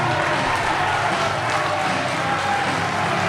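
A speedway crowd at a Poole Pirates championship meeting cheers and applauds a rider after a heat, a dense, loud wash of clapping and shouting filling the whole moment.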